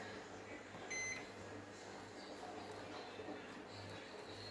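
A microwave oven hums steadily, faint and continuous, while heating rice on two plates, with a brief beep near the start.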